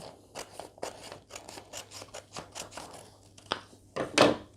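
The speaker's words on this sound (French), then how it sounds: "on prend les ciseaux et on vient découper le long de la ligne formée par le triangle" Scissors cut paper along a folded triangle line while making a paper fortune teller, giving a series of close, crisp snips and crunchy slices at an uneven rhythm, ending in a louder final cut.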